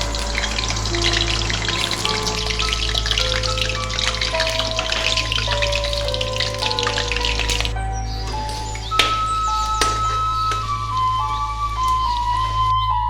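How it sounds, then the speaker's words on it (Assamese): Potatoes fry in mustard oil in a kadai with a steady, crackling sizzle, joined by a low constant hum and a clink partway through. "এতিয়া এটা কেৰাহী বহাই দি ইয়াৰ মিঠাতেল দি দিম আৰু লগতে মই আলুখিনি ভাজি ল'ম"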